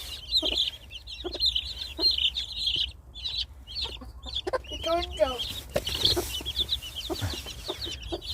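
A hen clucks and chicks peep throughout, with high chirping over low background noise and some scattered rustling close by.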